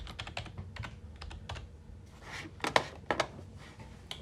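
Rapid typing on a computer keyboard, bursts of light key clicks in uneven clusters with a few louder taps, close and alone.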